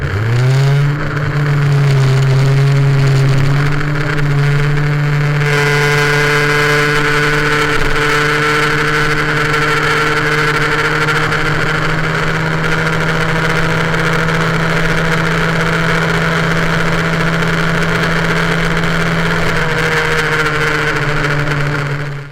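An MBK 51 moped fitted with a liquid-cooled Polini 70cc engine holds a loud, steady high-rpm rev close by, with a rising pitch early on, sustained buzzing for about twenty seconds and no talk.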